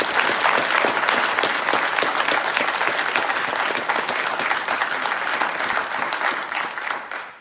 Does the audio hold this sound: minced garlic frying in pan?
no